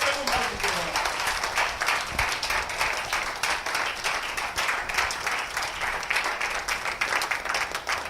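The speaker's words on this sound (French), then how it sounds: "Acclamez très fort pour le roi de gloire." A church congregation applauding loudly and continuously, a dense, steady wash of many hands clapping with some voices mixed in.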